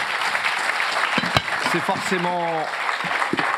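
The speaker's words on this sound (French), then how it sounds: "Vous pouvez les applaudir aussi." Audience at a conference on payment infrastructure applauds, a steady wash of clapping running under someone speaking briefly in French.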